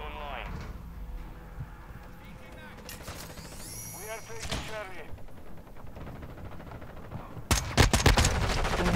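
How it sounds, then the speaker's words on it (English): Gunfire in the Modern Warfare 2 beta, a shooter video game, cracks out in a few scattered shots with one loud burst near the end, under ongoing game sounds and talk. "I just shot that man 3 times and he didn't die."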